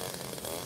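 A lawnmower engine runs loud and close during yard mowing, a steady dense buzzing drone with no pauses.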